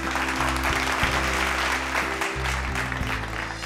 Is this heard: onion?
no